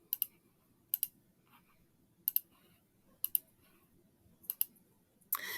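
Quiet, crisp mouse clicks on a computer, mostly in quick pairs spaced a second or more apart, with a faint hum between them and a brief louder rustle at the end.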